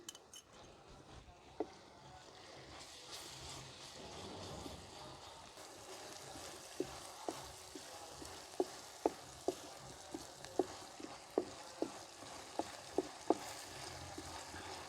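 Garlic ginger paste and crushed green chillies roast in a pan, giving a steady soft sizzle with scattered sharp clinks of a utensil against the pan toward the end, no voices.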